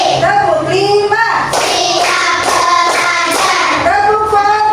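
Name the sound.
children clapping in a counting clap game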